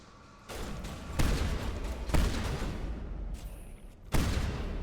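Video game gunfire from a pistol: several loud, spaced shots with crackling echoes over a steady background of combat noise.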